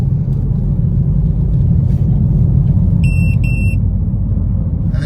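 A Ford Escape engine idles after a 200-mile drive and warm-up during a smog check, giving a steady low rumble throughout, with a short electronic beep partway through.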